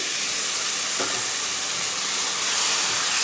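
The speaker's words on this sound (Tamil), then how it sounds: "அரைச்ச தக்காளியை ஊற்றிக்கலாம்" Ground tomato poured into hot oil for a spicy paneer gravy sizzles in a steady, loud hiss that fills the whole stretch, with a brief splashy burst near the start and no talking.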